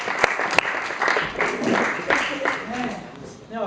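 An audience at a comedy show cheers and applauds as comedian Nick Place takes the stage: a dense wash of clapping and whoops with a couple of sharp claps standing out, fairly close and full throughout.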